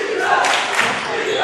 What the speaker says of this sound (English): Crowd re-energized, chanting defense.